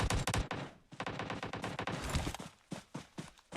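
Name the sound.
gunfire in a video game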